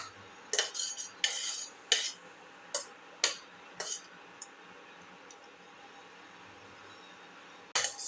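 A spoon stirs a pumpkin tomato rice soup mixture with curry leaves in a pot, giving a series of close, sharp metallic scrapes and clinks in irregular bursts, then a pause and one last clink.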